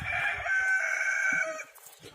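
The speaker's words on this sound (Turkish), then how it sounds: "Arkadaşlar burası da hep horoz dolu. Komple horoz burası." A village rooster crows once at a free-range chicken farm crowded with roosters, a loud, close, sustained call rising and holding for about a second and a half before trailing off, with faint farmyard noise around it.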